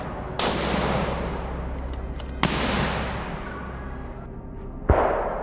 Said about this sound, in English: The gunshot shattered the silence, and the boar I was targeting dropped instantly.